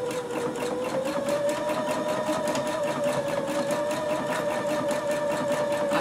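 A sewing machine running a zigzag stitch through fabric for a shirt extender, a steady close mechanical whir with a fast even stitching rhythm that holds level throughout and stops for nothing.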